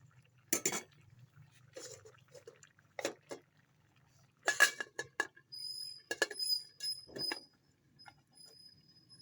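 A lid is set on a cooking pot of ginataang gabi with dilis, coconut-milk taro stew, giving several sharp metallic clinks and clatters spaced out over a quiet kitchen, with a faint ringing tone at the end.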